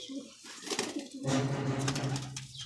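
A pigeon held in a pigeon club coos softly in repeated low, throaty phrases, heard close up against faint background noise.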